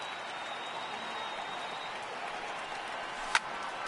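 A baseball crowd in the MLB 18 video game applauding, a steady faint wash of clapping and murmur with one brief sharp accent near the end.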